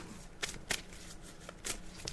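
Tarot cards being shuffled by hand, a run of crisp riffling bursts with short pauses between them, close and fairly quiet against a faint room hiss.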